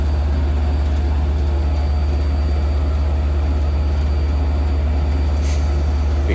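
A diesel locomotive of up to 3,000 horsepower hauls double-decker passenger cars, giving a steady, loud, low rumble that stays even throughout, with a brief higher hiss near the end.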